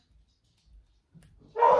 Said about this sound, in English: Apologize for the beagles barking.